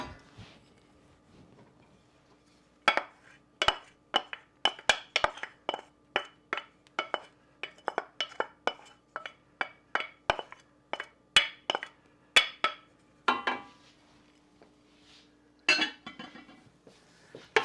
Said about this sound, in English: Next is to add all the peppers and the onions.